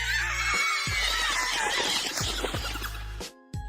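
Shrill, sustained high-pitched screaming from a group of anime girls, loud and continuous over a music bed, cutting off abruptly near the end.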